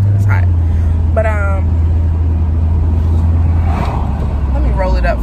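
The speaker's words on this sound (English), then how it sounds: "If y'all can hear my car, excuse it" Car engine rumble and road noise roar steadily with windows down while driving, a loud low drone filling the whole stretch with voices talking over it.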